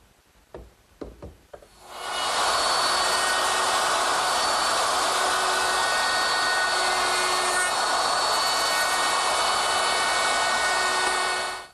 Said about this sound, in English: now using my router